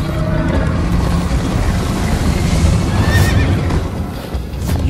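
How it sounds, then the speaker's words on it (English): A horse in Minecraft: Story Mode whinnies over a dense, continuous rumble of galloping hooves and motion, loud and close throughout. "First time on a horse here!"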